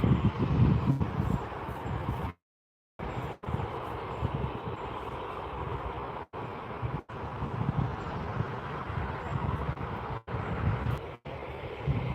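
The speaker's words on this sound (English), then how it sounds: "Business jet Pilatus that landed is still got engine running here in the background." A Pilatus business jet idles with its engine running in the background at Newcastle International Airport, a steady low rumbling whine with brief dropouts.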